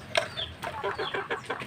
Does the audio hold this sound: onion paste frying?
no